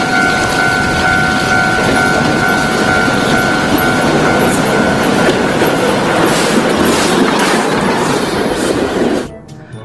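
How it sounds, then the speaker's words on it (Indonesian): A loud rolling toy Thomas train with rhythmic clattering and a faint squeal, continuous until it cuts off abruptly near the end. "Di sini ada kereta Thomas"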